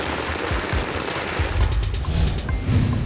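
Firecrackers burst at a street celebration in a town square, a dense, continuous run of rapid crackling pops and low thuds, loud and close, with no talking.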